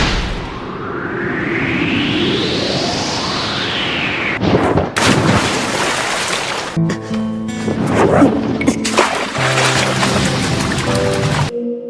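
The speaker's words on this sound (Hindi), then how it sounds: "Fire style Phoenix flower jutsu." Fire-style phoenix flower fireball attack from the Naruto anime: a loud rising whoosh sweeps upward for about three seconds, then a run of crackling, explosive bursts and roaring blasts fills the rest of the sequence.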